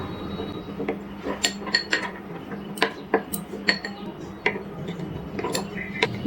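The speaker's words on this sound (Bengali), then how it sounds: "এবার এর মধ্যে দিয়ে দিচ্ছি একটু জল, আর জল দিয়ে ভালো করে একটু মিশিয়ে নিচ্ছি।" Ground spices, turmeric and Kashmiri chilli powder, are stirred with water in a bowl for a paneer curry, making a run of light clinks and taps of a spoon against the dish at close range.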